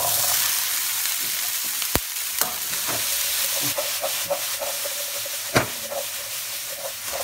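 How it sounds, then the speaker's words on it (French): Bell peppers fry in olive oil in a cooking pot for ratatouille, giving a steady close sizzle with scattered crackles and a few sharp clanks of a utensil against the pot. "Un peu d'huile d'olive et je mets nos poivrons"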